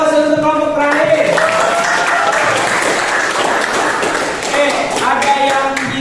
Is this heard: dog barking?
no